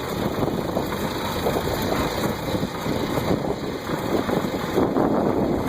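A tractor engine idles steadily while a Fischer weeder deck side-shifts from one side of the tractor to the other, a moderate continuous rumble with faint high whine and wind noise, no talking.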